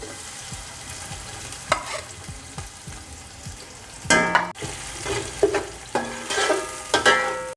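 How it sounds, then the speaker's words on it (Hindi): Onions browning in a cup of hot oil for Hyderabad-style beef biryani, with a steady sizzle broken by sharp scraping stirs and louder clattering bursts toward the end, close and alone. "1 कप ऑयल डालना है और इसके बाद प्याज ब्राउन करेंगे"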